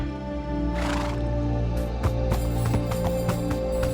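A horse whinnies in a video game, a bright neigh near the start over a steady bed of game music and ambience, followed by lighter clopping and clicking sounds.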